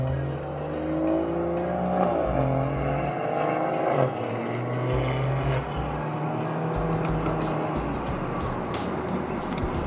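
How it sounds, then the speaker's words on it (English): A BMW 340i engine revs hard while driving, its droning tone climbing and dropping through gear changes, loud and close, with faint rattling clicks toward the end. "I'm trying to keep up and let you guys hear the car."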